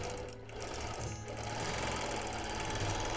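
A long arm quilting machine stitches a Quilt of Valor, a rapid steady mechanical chatter with a low motor hum, close and continuous with no talk.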